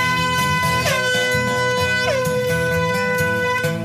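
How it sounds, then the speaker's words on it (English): A loud, blaring horn sounds continuously, harsh and tonal, with a couple of swooping pitch bends along the way. "the air horn is going to wake you up"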